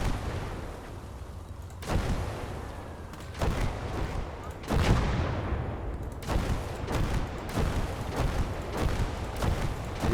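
Heavy World War II artillery barrage and explosions in the video game Gates of Hell, loud booming blasts landing one after another with rumbling, crackling tails and brief gaps between impacts.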